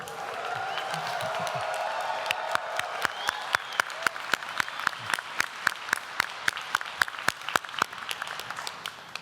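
Audience applause with some cheering in a chapel at a university graduation ceremony, a broad crowd roar that turns into rhythmic, evenly spaced unison clapping.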